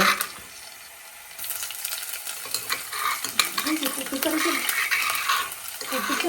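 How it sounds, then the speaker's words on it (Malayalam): Crushed ginger and garlic stirred in hot oil in a frying pan for a fish curry, a quiet start then steady sizzling with scraping spoon strokes and light clinks against the pan. "ഇഞ്ചി വെളുത്തുള്ളി ചതച്ചതിടുന്നു."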